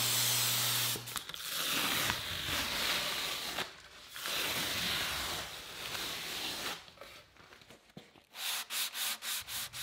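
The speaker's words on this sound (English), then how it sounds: "I'll spray the drawer with two coats of waterborne lacquer" Waterborne lacquer sprayed onto a wooden drawer, a steady loud hiss in long sustained passes broken by short gaps, ending with a series of quick rhythmic spray bursts.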